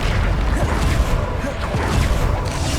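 Bombarda spell blasts in Hogwarts Legacy combat, heard as a loud, continuous rumble of booms and crashes layered with shouted in-game voices throughout.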